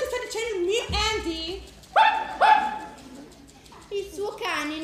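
A dog barks a few times and whimpers, loud and close, mixed with voices speaking in a scene from Mary Poppins.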